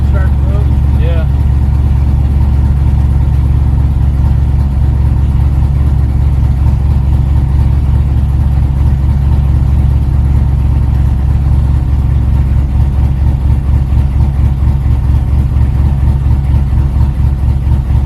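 An LS-swapped Chevy S10 drag truck engine, with an exhaust leak, runs steadily in a garage setting, a loud, deep rumbling drone with a fast pulsing beat that barely changes, while people talk briefly near the start.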